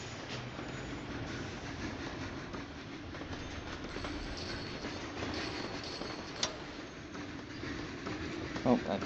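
A train runs in the Sid Meier's Railroads! video game, a steady rumbling rail noise with faint clicks and a few brief sharp sounds over the bed.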